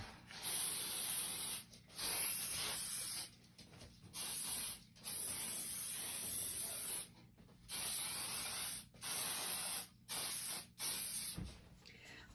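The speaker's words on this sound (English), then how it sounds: "you want to spray your hairspray over the entire frame and give it a really good thick coat" Hairspray hisses from an aerosol can onto a thrift store frame in a series of about nine close, bright bursts separated by brief pauses, alternating long and short sprays.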